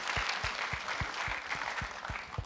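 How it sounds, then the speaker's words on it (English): Audience applause for a woman running a floral business at a university entrepreneurial fair, a steady wash of clapping with a few louder low thumps spaced through it, sustained and fairly close. "just give a round of applause to this woman who's actually doing floral"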